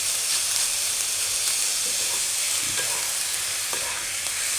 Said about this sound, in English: Just break this up until it's frying nicely on the bottom.